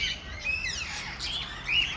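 Lovebirds or cockatiels squawk and chirp in an aviary at the Warangal zoo, a few shrill, rising calls coming in bursts over a steady low background hum, with no voices present.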